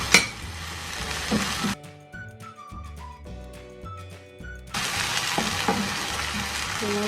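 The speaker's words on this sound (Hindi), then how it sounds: "इसमें अदरक लहसुन का पेस्ट और जीरा भी डाल देना है।" Ginger-garlic paste and cumin fry with onions in hot oil for a chicken keema kachori filling, giving a loud, close sizzle in two bursts with a quieter stretch between them.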